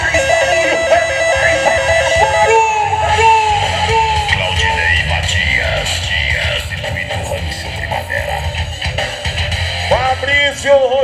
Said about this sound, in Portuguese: Cadê o grito, uma galera faz barulho?